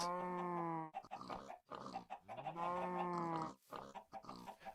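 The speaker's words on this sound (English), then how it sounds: "we have the cow. We have the chicken. And we have the pig, and they have idle sounds" Farm pig idle sounds in a C++ Minecraft clone video game: drawn-out tonal, honking grunts and squeals, several in a row with short gaps, loud and close with no talking.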